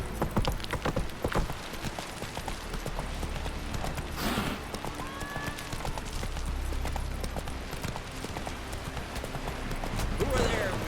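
Hooves of Geralt's horse Roach in The Witcher 3 video game, a steady clip-clop gallop running throughout at moderate distance, with brief speech and game sounds over it.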